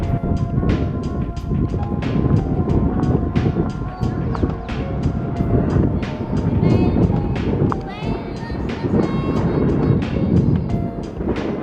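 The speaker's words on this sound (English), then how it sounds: "It's getting really windy up here now." Gusty wind buffets the microphone near the Golden Gate Bridge in San Francisco with a constant low roar, while quick rhythmic thumps like hurried footsteps pulse underneath.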